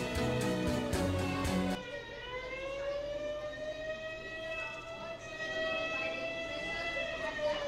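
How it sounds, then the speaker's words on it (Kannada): A civil defense air raid siren wails during a mock drill, a long rising and falling tone heard from a distance, preceded by a short burst of other noise, faint and steady beneath background hum. "ಹೀಗಿರುತ್ತೆ ಸೈರನ್ ಮೊಳಗದಾಗ."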